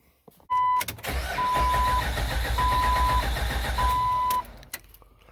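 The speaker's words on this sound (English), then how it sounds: "now we're gonna go crank the motor" A 2004 Jeep TJ engine cranks continuously for several seconds without catching because of a fuel pump fault with no fuel pressure, with a loud close starter whir and a steady electronic chime beeping over it.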